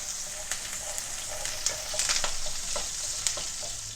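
Onions, curry leaves and green chili sauté in a pan for a village-style paruppu urundai kuzhambu, a steady oil sizzle with occasional clicks of stirring, close and continuous.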